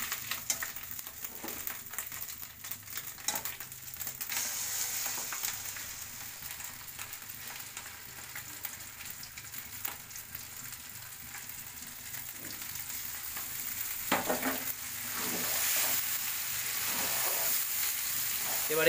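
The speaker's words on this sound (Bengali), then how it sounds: "এবারে এই পুরটাকে অনেকক্ষণ সময় ধরে ভালোভাবে নাড়তে হবে" Green pea kachori filling stirred and fried in a wok-style kadai after ginger, a steady close sizzle with scraping stir strokes throughout, growing slightly louder toward the end.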